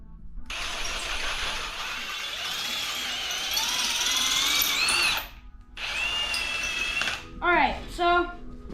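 A power drill bores a hole in a snowbike kit part fitted to an SE Bikes PK Ripper, whining loudly and close for about five seconds. A shorter second burst follows, then a few brief trigger blips.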